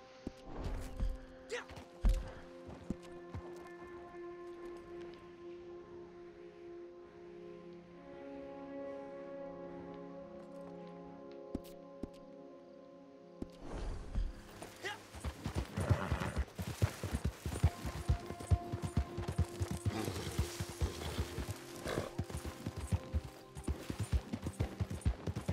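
Horse hooves clatter in a Western video game, a steady clip-clop rhythm building into dense galloping with gunfire-like bursts over background music.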